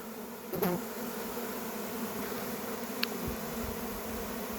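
Bees buzz steadily around an opened beehive during frame work, a constant close insect drone with a faint clunk near the start and no talking.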